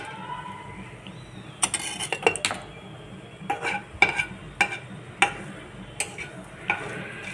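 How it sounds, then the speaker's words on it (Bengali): Cardamom and cinnamon tempering in hot oil left from frying fish, a low sizzle punctuated by repeated sharp clicks and taps of a spoon against the pan, close and fairly quiet. "তো এতে এলাচ আর দারচিনি ফোড়ন দিতে হবে।"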